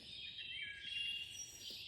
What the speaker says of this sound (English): The birds are so amazing.